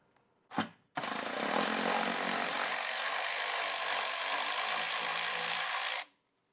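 A power tool spins out a bumper bolt on a 2024+ fourth-generation Toyota Tacoma, with a short burst followed by a steady, close, loud whirring run of about five seconds that then cuts off.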